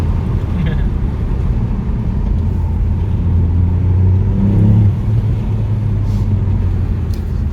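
A Ford Puma ST with 200 hp accelerates, its steady, loud engine drone heard from inside the cabin, rising in pitch midway through the pull before levelling off.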